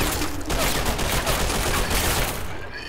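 Dense, continuous gunfire and explosions from a WW2 Stalingrad battle video game, loud and unbroken for the whole stretch, with a slight fade at the end.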